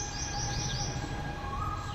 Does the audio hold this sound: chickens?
no